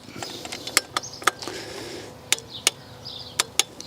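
A torque wrench tightens E-Torx bolts on a BMW vacuum pump, giving sharp, scattered metallic clicks and ratchet ticks close by over a quiet background, with no talking.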